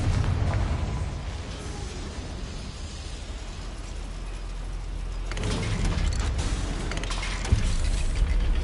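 A Confringo spell goes off in a Harry Potter video game, producing a rumbling blast with debris noise that swells partway through, followed by a sharp pop near the end.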